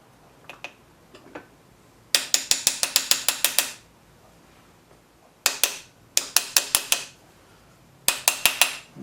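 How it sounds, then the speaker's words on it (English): Removing a small cover from a Briggs engine with a glass head produces close, rapid bursts of ratchet clicking in three separate runs, with quiet pauses between and no speech. "I gotta take this little cover off."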